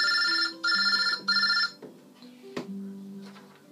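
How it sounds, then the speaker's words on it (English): A telephone bell rings in three loud, even bursts, then stops, leaving a quieter room with faint background sounds. "sorry about the phone"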